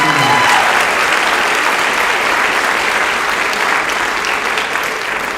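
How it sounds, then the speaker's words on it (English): Sustained, dense applause from an audience at a high school senior awards ceremony, loud and steady throughout with no voices above it. "How about one more round of applause for these"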